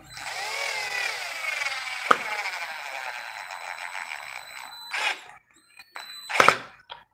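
A power screwdriver whines steadily for several seconds as it drives a screw into a boot heel, then stops and gives two short, louder bursts near the end, heard close and without talk.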